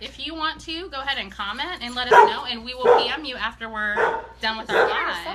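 A dog barks a few times in short bursts while a person keeps talking over it.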